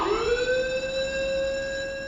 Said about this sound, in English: Secondly, the fire and general alarms.